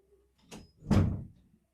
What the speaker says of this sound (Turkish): Hatta ben kapıyı da kapatayım.